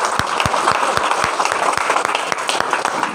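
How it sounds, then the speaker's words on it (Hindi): Audience applause at the close of a Hindi business motivational meeting, a dense steady wash of many hands clapping with some louder individual claps standing out, sustained and fairly loud throughout. "जोरदार ताली"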